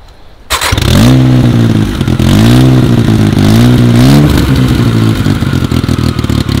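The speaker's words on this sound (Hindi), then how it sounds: "चालू करते बाइक एंड इसका साउंड सुनते" A custom 800cc motorcycle fires up with a sudden loud catch, then the engine revs hard in repeated rising and falling sweeps before settling into a rough, popping idle, close and alone.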